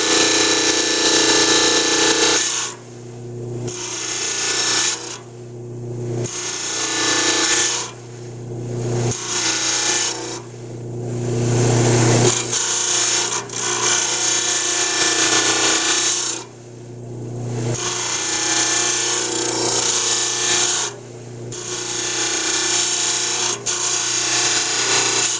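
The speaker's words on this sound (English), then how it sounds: "Is actually shaving the stone using the side of the saw blade" Lapidary saw blade cutting into stone held at about a 30-degree angle, shaving it with the side of the blade; a loud continuous grinding whine that repeatedly drops and resumes in short breaks as the stone is pulled back and pushed in again.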